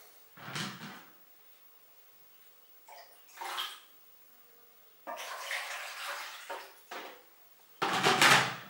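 Water is poured from a container into a straight-sided cylindrical metal cooking pot with a flange, set up for boiling on a wood stove in Malawi. The pouring comes in several separate splashing bursts with quiet gaps between them, close by and without talk.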